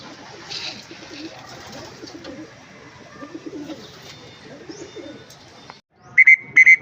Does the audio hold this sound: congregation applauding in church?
no